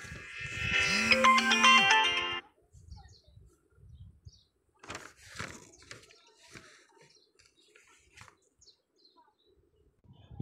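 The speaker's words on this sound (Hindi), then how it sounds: "बीच में फोन आया था" A phone's ringtone plays loudly for about two seconds, a bright warbling tune with a low pulsing undertone, then stops and leaves faint room noise and a few soft sounds.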